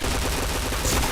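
Rapid burst of loud gunfire in a shooting video game scoring a headshot, a dense crackling volley lasting about a second with no talk.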